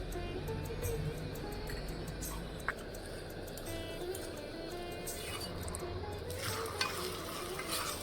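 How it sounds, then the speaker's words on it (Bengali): A paratha fries in white oil on a hot pan, giving a soft, continuous sizzle with occasional faint clinks and scrapes at low volume and no talk. "গরম হয়ে গেছে, পরোটা দিয়ে দিলাম। সাদা তেল,"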